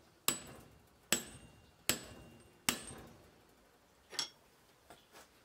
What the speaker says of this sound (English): The only difference is that the tools are stronger and you have to hit the chisel harder.